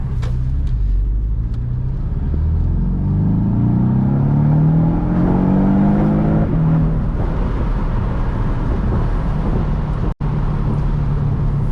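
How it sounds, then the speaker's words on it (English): A 2017 Porsche 718 Boxster's engine revs up steadily, its deep exhaust note and intake noise climbing in pitch as it accelerates, loud and close from inside the vehicle, briefly dipping near the end. "that awesome exhaust note and that air intake noise coming from the engine"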